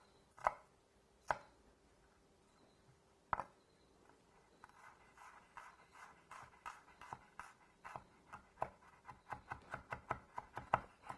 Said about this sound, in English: So I'm going to use 2 of them, but one nice grocery store shallot should work.